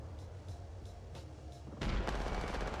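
Video game gunfire, with faint periodic shots at first and then a sudden louder stretch of rapid, dense firing that continues to the end.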